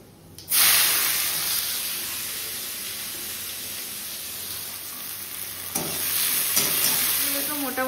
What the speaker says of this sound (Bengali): এবার তেলের মধ্যে গোটা গরম মশলা ফোড়ন দিয়ে দেব। আর দেব হচ্ছে এই কেটে রাখা পেঁয়াজ কুচিগুলো